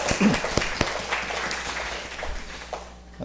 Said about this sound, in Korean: 우리 친구들에게 격려의 박수 다시 한번 부탁드리겠습니다